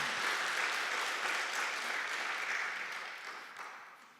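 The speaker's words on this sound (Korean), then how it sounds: "하고 나면 박수로 주님께 영광의 박수 올려드리겠습니다." A church congregation applauding after hymns, a dense, fairly quiet burst of clapping that fills the space for about four seconds and then fades away.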